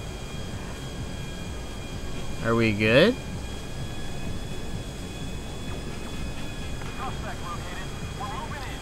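A helicopter in the video game GTA V gives a steady, even drone that fills the whole stretch, with a brief burst of speech near the middle riding over it.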